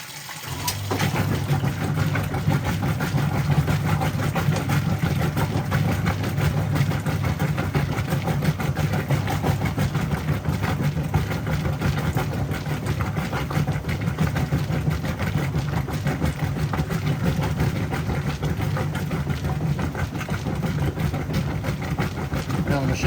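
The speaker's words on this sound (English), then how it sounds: "Now the machine's agitating full speed there." Whirlpool 3RLSQ8000 top-loading washing machine agitating at full speed on a Super Wash cycle, a steady low churning drone with continuous sloshing that runs without a break from start to finish.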